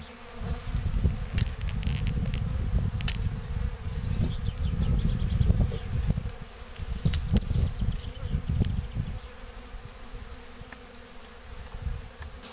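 A dense, steady buzz of many honeybees around a Layens hive close by, continuous and loud with no talking.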